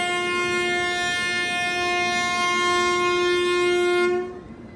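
Veer Bhumi Express pulled by a WAP-7 electric locomotive sounds a long, loud, steady horn blast as it prepares to depart, holding for about four seconds before cutting off abruptly, with no talking over it.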